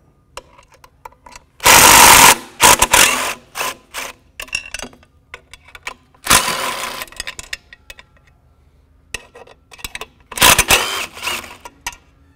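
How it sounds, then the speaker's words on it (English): Ratchet socket loosening the mounting bolts on a gear motor bracket of an electric under-tailgate spreader, with several bursts of clicking ratchet strokes separated by pauses, close and fairly loud. "you just want to take your 9/16 socket. I'm using a 3/8 because it fits right in, and we want to loosen the mounting bolts to the bracket"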